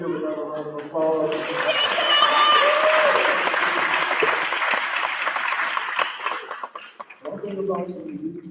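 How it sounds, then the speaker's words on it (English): Audience applause at a university Mister and Miss Cheyney coronation: a loud, sustained wave of clapping from a crowd fills most of the span, with a voice speaking before it swells and again as it fades. "Come on, let's give another round of applause"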